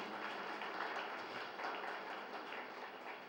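An audience in a large hall applauding a teacher at a group meditation gathering, a steady, even wash of clapping from many hands lasting a few seconds, somewhat distant and muffled.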